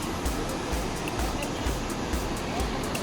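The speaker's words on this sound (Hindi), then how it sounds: "नदी की साउंड सुन सकता हूँ। पानी का जो साउंड होता है बहुत ही प्यारा होता है।" River water rushing in a Himalayan valley near Kedarnath, a steady broadband roar with soft surging pulses, close and continuous without speech.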